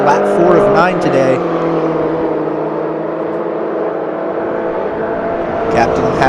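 Racing cars in a JCW Mini racing game drone steadily along the first stretch of a track, a continuous engine roar with a slight swell at the start and end, with a commentator talking over it.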